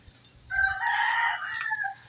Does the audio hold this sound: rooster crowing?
yes